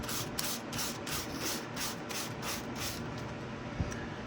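Sandpaper rubs over deglossed magazine images for a mixed media collage, making quick rhythmic back-and-forth scratchy strokes, close and fairly loud, easing off near the end, with no voices.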